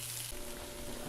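Onions hit olive oil in a hot pan and give off a steady, close, hissing sizzle that stays even throughout the short moment, with no talking.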